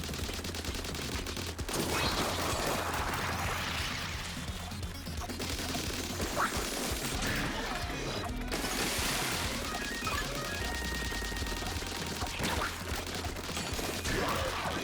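A rapid-fire weapon in Splatoon 3 Side Order shoots in fast continuous streams, a sputtering spray of crackling bursts with splashy impacts and game music underneath, fairly quiet overall.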